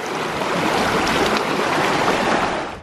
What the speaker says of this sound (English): You just gotta keep going through the water.